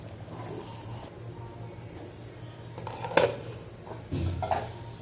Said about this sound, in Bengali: আরও কিছুক্ষণ নাড়াচাড়া করব।